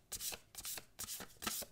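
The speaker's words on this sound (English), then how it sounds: "But they're even riffle shuffling." Large oracle cards riffle shuffled by hand, four crisp fluttering bursts in a steady rhythm, close and fairly quiet with no talking.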